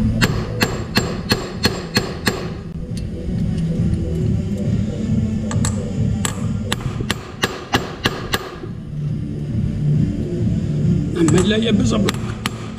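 Repeated hammer blows on a 2006 Skoda with a 2.0 FSI engine during a timing belt change ring out as sharp metallic strikes in quick runs, first a steady series, then a faster burst midway and more hits near the end, with someone talking between them.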